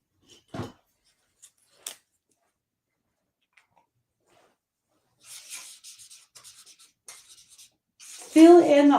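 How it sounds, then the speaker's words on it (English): Pen or marker writing a name repeatedly on paper, heard as a few short scratchy strokes separated by quiet, then a longer stretch of soft rubbing scribbles before a voice starts speaking at the end. "Write their name over and over again."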